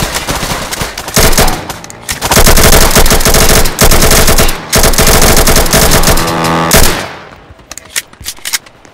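SCAR rifle fire in a video game: loud, rapid automatic bursts in several long strings with brief gaps, ending in scattered single shots and fading echoes.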